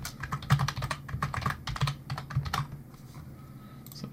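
Rapid typing on a computer keyboard, with dense, close clattering keystrokes that thin out toward the end.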